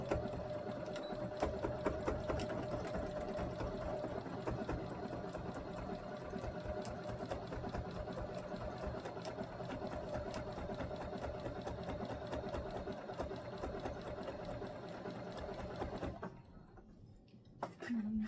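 A sewing machine stitching fabric, its fast steady needle rattle running loud and continuous for about sixteen seconds before stopping, with a brief quieter stretch at the end.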